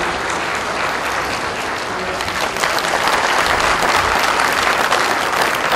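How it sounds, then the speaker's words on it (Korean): Loud, sustained applause fills the hall at an inauguration ceremony for new presidents of Korean trade associations, with many hands clapping continuously and swelling slightly midway. "뜨거운 박수 부탁드리겠습니다"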